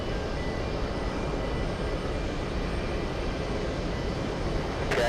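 Cathay Pacific airliner at JFK airport, a continuous broadband engine roar held steady for several seconds, heard from a distance with no voices.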